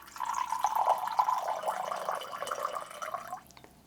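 Water pours smoothly from a High Camp flask, a close gurgling stream with a wavering trickle that tapers off near the end, no voices.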